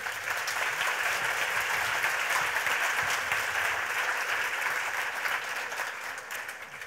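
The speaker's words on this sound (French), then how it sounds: "je vous demande d'applaudir notre panel" A conference audience applauds a panel of speakers, sustained dense clapping that holds steady and tapers slightly at the end, with no voices over it.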